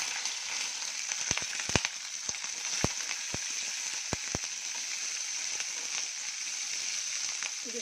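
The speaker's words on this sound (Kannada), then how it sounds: "ಇದು ಸ್ವಲ್ಪ ಎಣ್ಣೆಲಿ ಫ್ರೈ ಆಗಲಿ." Five green chillies fry in hot oil in a pan, giving a steady soft sizzle with scattered sharp pops and crackles throughout, no talking.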